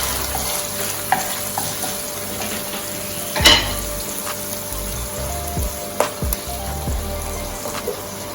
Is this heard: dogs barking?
no